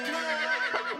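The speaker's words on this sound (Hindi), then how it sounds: "ये घोड़ा है।" A horse standing in a living room gives a loud, close, shrill whinny that lasts about a second, with a quavering pitch.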